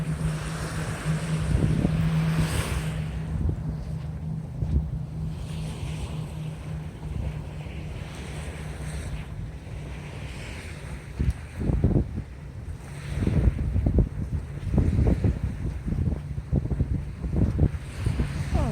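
Ocean waves and wind on a beach, a continuous broadband roar with microphone wind buffeting and surf surges growing stronger in the second half, with no voices.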